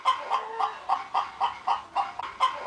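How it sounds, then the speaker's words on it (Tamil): A hen clucks steadily, about ten evenly spaced calls in a row, fairly close with no other sounds. "கோழி கத்தும் சத்தம்"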